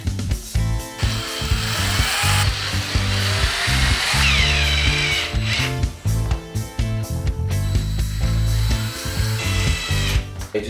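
A power drill fitted with a long drill bit bores into a wall to fix a towel rail, whining loudly in repeated bursts that rise and stop, with short pauses between runs and gritty grinding as the bit bites in.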